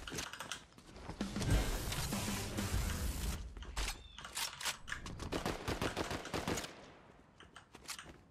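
Fortnite gunfire on PC: a heavy continuous burst of shots up front, then sharper separate cracks and clicks in an uneven rhythm that trail off toward the end.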